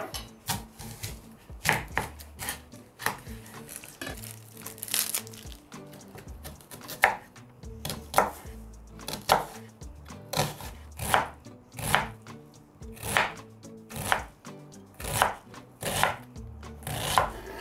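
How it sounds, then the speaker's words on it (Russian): A knife chops onion on a board in quick, steady strokes, a long run of crisp, close taps. "Нарезаем репчатый лук."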